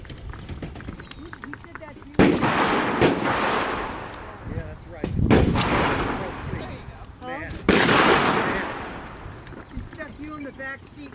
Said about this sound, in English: They said it's a real fast shooting gun.